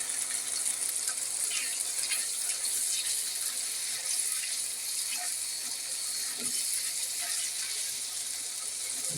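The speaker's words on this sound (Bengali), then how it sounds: "দিয়ে দিলাম সামান্য একটু পানি।" Water pours steadily in a continuous, close splashing stream onto a spice paste for a desi chicken and potato curry, with a few faint clinks underneath.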